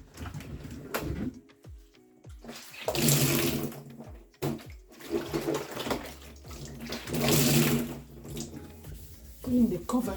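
Water rinses a deep freezer during cleaning, coming in two loud broadband bursts of splashing and pouring, with quieter clatter and bird-like chirps between them.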